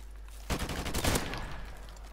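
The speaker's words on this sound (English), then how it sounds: "shooting you with a shotgun doesn't count in this game" Rapid burst of shotgun fire in Call of Duty Modern Warfare Remastered gun game, a loud dense volley lasting under a second followed by fading reverberation, with no talk.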